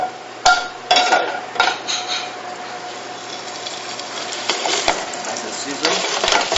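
Fresh protein sears in a very hot, seasoned sauté pan in a restaurant kitchen. A steady, loud sizzle is broken by sharp clanks and stirring knocks of metal on the pan.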